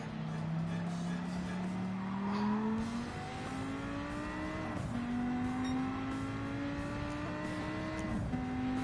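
Race car engine revving hard and climbing through gears in the Gran Turismo racing game, steady rising whine with pitch drops at each shift, loud and continuous with no talk.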